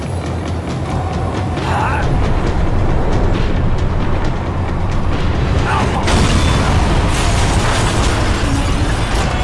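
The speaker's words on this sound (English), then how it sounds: "The tram was slowing down." A tram rolling and slowing down in the video game Max Payne 3, a loud, steady rumbling roar of rail mechanisms with heavy low-end noise and occasional clanks throughout.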